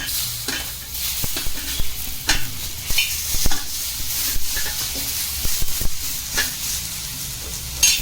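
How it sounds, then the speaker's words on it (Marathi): Onion frying in a pan with tomatoes added to one side, a loud continuous sizzle broken by frequent scraping stirs and clinks of a utensil against the pan. "आपला कांदा थोडा लालसर झालाय, त्याच्यातच आपण एका साईडला टोमॅटो टाकूया"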